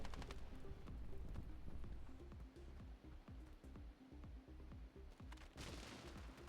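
A machine gun firing steadily in the mobile shooter Standoff 2, a long rapid string of quick, evenly spaced shots, faint and fairly low in level, ending in a brighter clatter.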